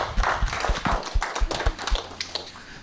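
A small audience at a tech demo night claps for a few seconds, uneven individual claps close by rather than a full roar, tapering off quickly.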